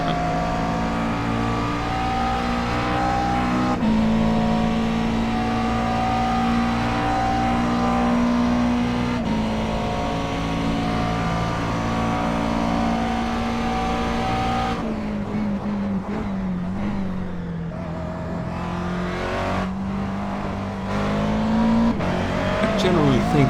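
A race car engine in an iRacing Grand Am race at Road Atlanta, video game, drones continuously and loudly, its pitch rising and falling through gear changes, with someone talking over it.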